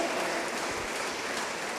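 A church congregation claps loudly and steadily in praise, a dense wash of hand claps filling the room with no voices standing out.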